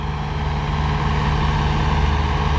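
Vintage Zetor Crystal 80-11 tractor engine running steadily in a farm field, a loud, continuous low rumble with a constant hum and no voices.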